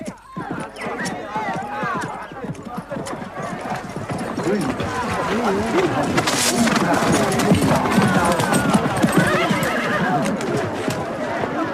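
Several horses neigh and whinny repeatedly amid clip-clopping hooves, busy and fairly close, with voices mixed in among the animal calls.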